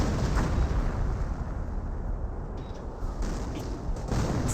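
Artillery barrage called in by a captain during a Company of Heroes 1 match, heard as a continuous loud rumble of blasts and booms without pause.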